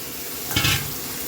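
Meat dropped into a pan of fried spices gives a short, loud sizzling burst with a stirring scrape, then settles into a steady hiss.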